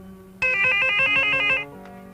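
A telephone rings loudly and close in an action film scene, a single sustained burst of electronic ringing with a bright steady tone that cuts off, followed by a faint short tone.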